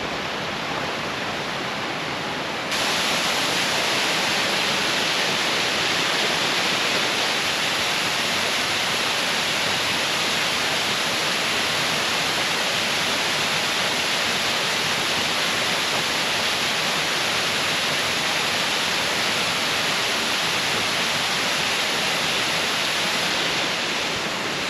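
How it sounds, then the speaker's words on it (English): Waterfall near Ayusai roaring as a constant broadband rush, quieter for the first few seconds and then loud, dense and unbroken. "I hear waterfall. I think I'm very close."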